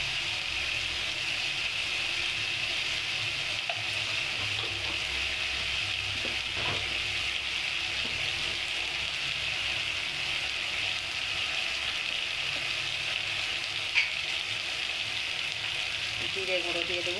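Chili, coriander and cumin powders fry in hot oil with a steady, continuous sizzle close up, holding evenly throughout with a faint stir or clink now and then.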